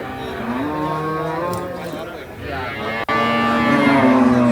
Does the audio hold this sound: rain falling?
no